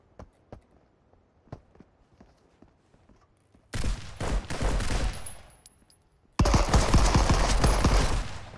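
Gunfire in the video game Marauders, with scattered clicks and steps giving way to two loud sustained bursts of rapid automatic fire, close and dense, with no talking.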